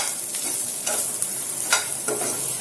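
Bitter gourd (karela) with ginger and garlic crisping in hot oil gives off a steady soft sizzle, broken by a few sharper scraping bursts as a spoon stirs the pan; no voices.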